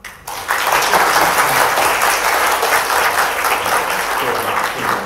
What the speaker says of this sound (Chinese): 让我们再次鼓掌。